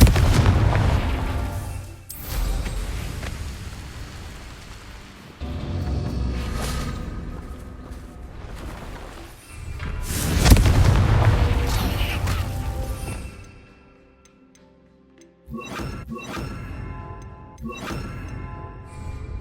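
Confringo fire spells explode in Hogwarts Legacy: heavy booming blasts and crashes that swell and fade in several rounds, with a quiet gap before sharper bursts return near the end.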